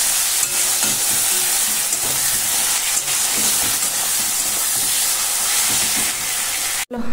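Tomato and ground spices sautéing in a pan give a steady, loud, close sizzle with soft stirring scrapes throughout, cutting off briefly just before the end.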